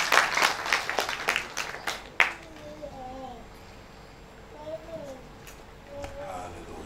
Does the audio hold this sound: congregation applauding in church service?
yes